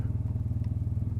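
A Honda Crosstourer DCT 1,237cc motorcycle idles with a steady throbbing engine pulse, and a brief clunk marks its dual-clutch gearbox automatically shifting down a gear, heard close with no talk.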